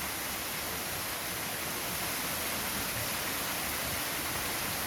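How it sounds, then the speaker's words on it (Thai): A waterfall in the Khao Lam Nao forest gives a constant broadband rushing roar, steady and fairly far off, with no voices over it. "มีน้ำตกด้วย"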